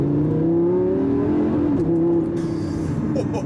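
Lamborghini Gallardo LP560-4 accelerating hard, a loud close engine tone climbing in pitch, then a brief dip at a gear change before pulling on.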